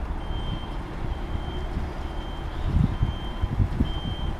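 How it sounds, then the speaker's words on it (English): A truck backs a trailer into a bay at night, its reversing alarm beeping steadily over a constant loud engine rumble, with no voices. "We'll literally just go back straight, see where the trailer's going to go, and adjust."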